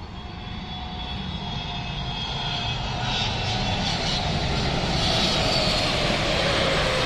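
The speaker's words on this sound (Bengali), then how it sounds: "সৌদি আরবের রাজধানী রিয়াদ থেকে 5 ঘন্টা পথ উড়ে ঢাকায় অবতরণের জন্য এগিয়ে আসছে রাজকীয় বিমান বোয়িং 777।" A Saudia Boeing 777 airliner approaches to land in Dhaka after a flight from Riyadh, its jet engines a loud, steady roar that slowly builds as it nears.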